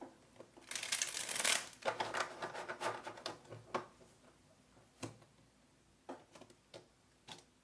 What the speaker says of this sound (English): the cards are shuffled up and down